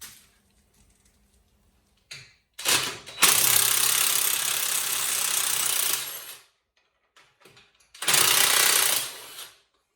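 Loud bursts of a powered impact wrench or ratchet spinning off nuts on a braked trailer's AL-KO overrun damper, two long rattling runs of a few seconds each with short taps between and quiet gaps.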